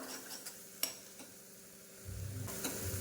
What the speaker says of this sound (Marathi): हे पहा, अद्रक लसणची पेस्ट चांगली भाजली गेली आहे.